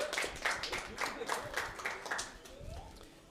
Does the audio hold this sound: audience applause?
yes